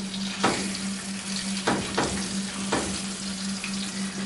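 Chicken pieces frying in a pan for chicken marsala with mushrooms, a steady broadband sizzle with a low hum beneath and a few louder bursts of spatter or stirring.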